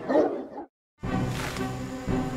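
Roman war dogs bark and yip in a short burst, then go quiet for a moment before a dense, snarling swell of dogs and noise returns and carries on loudly.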